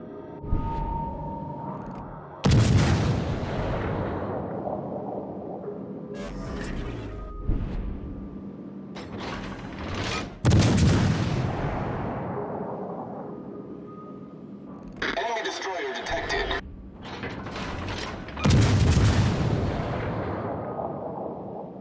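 Concentrated weapons fire on a target in a video game: four heavy, booming blasts spaced a few seconds apart, each with a long rumbling decay, with no talking over them.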